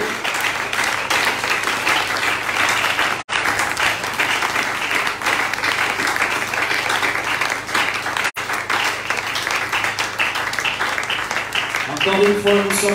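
Church congregation applauding, a dense steady wash of clapping from many hands that runs almost the whole time, close and loud, with a voice speaking over it near the end.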